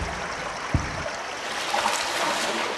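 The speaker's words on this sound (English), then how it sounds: "This old subway tunnel seems to have a river running down it" A river flowing through an old subway tunnel in the video game Blindscape, a steady broadband rush of water with a soft low thump early on and faint trickling detail throughout.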